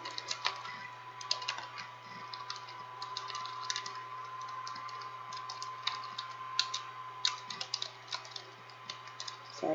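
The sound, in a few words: typing on a computer keyboard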